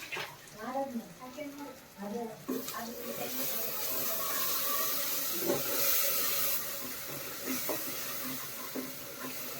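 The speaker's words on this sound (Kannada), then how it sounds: "ಇದು ಒಂದು ಸ್ವಲ್ಪ ಎಣ್ಣೆಲಿ ಫ್ರೈ ಆಗಲಿ" Sambar masala frying in a little oil in a home kitchen while cooking a greens rasam: a steady hissing sizzle swelling up midway and holding, with someone speaking over the start and end.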